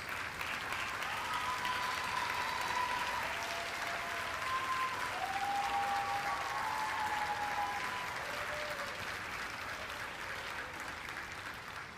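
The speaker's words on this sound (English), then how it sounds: "Parents, please stand and give our teachers a round of applause." Parents at a technical programs graduation ceremony stand and applaud the teachers, a dense, even wash of clapping from a large crowd heard from a distance, continuous for the whole stretch with faint tonal sounds over it.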